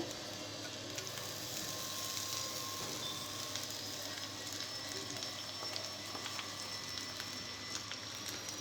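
Steady, faint sizzling and crackling of curry leaves and tempering seeds frying in hot oil, continuing evenly without pause.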